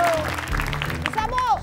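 Applause for a contestant on a light-hearted Indonesian quiz show, a brief burst of clapping under a loud voice and background music.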